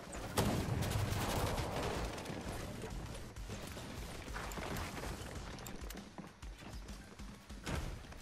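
Rapid video-game gunfire fills a busy firefight, with dense bursts of shots and thuds running throughout at steady loudness.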